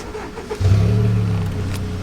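A car engine cranks and catches, then settles into a steady, loud idle rumble close by.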